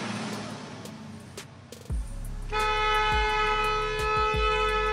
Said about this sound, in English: Honking as soon as it turns green.